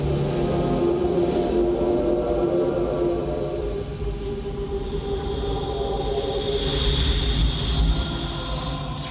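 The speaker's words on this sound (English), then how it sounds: "But look at all this steam, the geysers and dust." Steam and geysers venting off a comet as the sun boils it away, heard as a steady, loud, broad roaring rush with a deep rumble, constant throughout with no voices.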